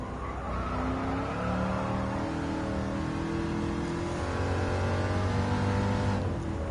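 Chevrolet Chevelle SS muscle car in Gran Turismo 7, its engine roaring and revving continuously with shifting pitch, tire squeal mixed in, loud and close throughout.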